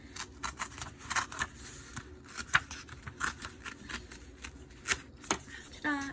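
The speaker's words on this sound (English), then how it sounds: "So take your time ripping." Folded paper is torn slowly along a crease in a series of short, close rips and crackles with uneven pauses, while a person talks faintly underneath.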